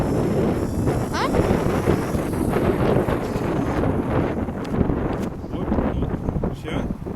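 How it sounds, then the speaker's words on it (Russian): Strong wind on a very windy day buffets the microphone in a dense, continuous roar for the whole stretch, with gusty rumbling and rustle and no clear break. "Сейчас ветер."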